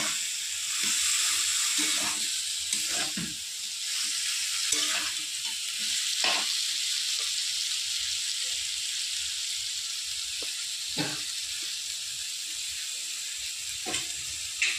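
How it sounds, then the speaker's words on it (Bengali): Fish oil frying in a pan for a fish-oil chorchori makes a strong, continuous sizzle with crackling bursts and occasional spatula taps, a voice faintly heard now and then beneath it. "এবার দিয়ে দেবো মাছের তেল।"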